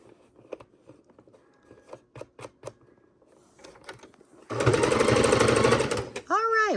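A sewing machine stitches quilt binding in a steady, loud, continuous run lasting a couple of seconds, after quieter handling clicks and movements, with a voice speaking briefly before and after.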